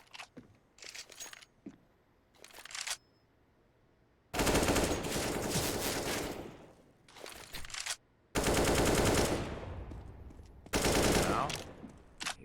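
AK-47 fire in a Counter-Strike match between GODSENT and ATK: short bursts at first, then several long sustained automatic volleys, loud and clear with gaps between them.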